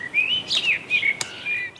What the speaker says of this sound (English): Little Robin, bathing in a puddle, performed better for the camera.